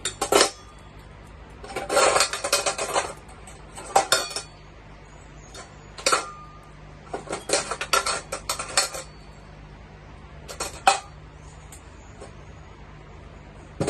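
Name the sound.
metal instruments being rinsed at a sink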